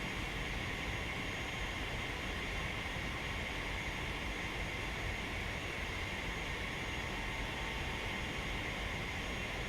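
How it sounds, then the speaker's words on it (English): A steady, loud aircraft engine drone from a plane making a low pass over an airfield in a flight simulator, holding an unbroken broadband roar throughout. "Let's buzz the airfield here."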